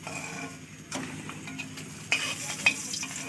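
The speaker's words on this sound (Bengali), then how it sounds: "দেখো ডিমগুলো ভাজা হয়ে গেছে, আমি তুলে নিচ্ছি একটা" Eggs fry in oil in a kadai, giving a faint, steady sizzle broken by a few soft clinks and stirring sounds.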